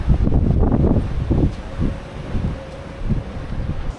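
Gusty wind in Australia buffets the microphone in loud, low rumbling bursts that ease off and return, with a faint steady hum behind.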